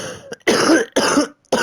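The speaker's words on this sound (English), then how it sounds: "This cough won't go away." Several harsh coughs from one person, close and loud, in three separate bursts with short silences between, spoken during commentary on an NBA 2K23 basketball simulation.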